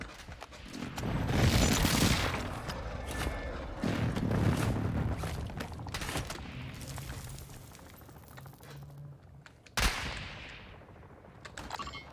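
Video game gunfire rings out in bursts, mixed with machine-gun rattles and mechanical clatter, moderately loud with a sharp, close crack near the end and little talk.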